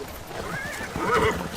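Horses whinny and neigh over a steady clip-clop of hooves in a Game of Thrones scene on the Dothraki grasslands, fairly close and clear, with no talking.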